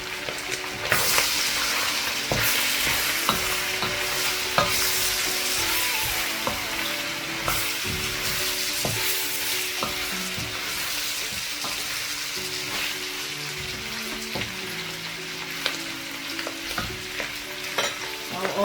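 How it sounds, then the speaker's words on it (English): Sliced carrots sizzle and crackle in hot oil with beef for a cabbage stir fry, a steady close frying hiss broken by repeated scrapes and clinks of stirring against the pan. "At this stage, I'll go ahead and add my carrots in."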